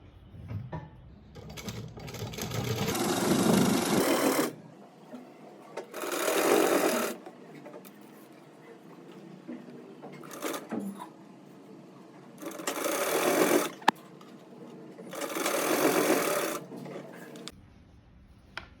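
Electric sewing machine stitching a straight salwar, running in several bursts of steady whirring stitches lasting a few seconds each, separated by quiet pauses, close and fairly loud.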